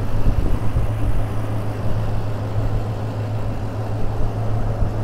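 Stock-exhaust 2UZ V8 in a 2005 Toyota Land Cruiser with a cold air intake runs quietly, a low, steady hum with a faint rumble and no revving.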